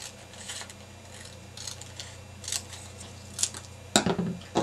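Scissors snipping along the sides of an acetate film strip, a series of sparse, close cuts over a steady low hum, ending in a sharper, louder snip.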